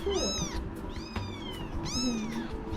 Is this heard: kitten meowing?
yes